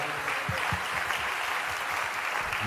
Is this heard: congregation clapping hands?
yes